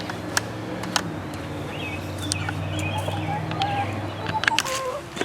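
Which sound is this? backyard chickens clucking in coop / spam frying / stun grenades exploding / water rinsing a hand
backyard chickens clucking in coop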